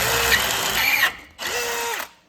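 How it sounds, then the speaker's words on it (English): A Temu high-speed steel drill bit bores through material with two loud, close whining runs from a power drill. Each run lasts about a second, with a brief pause between them. "this is how fast these Temu drill bits drill"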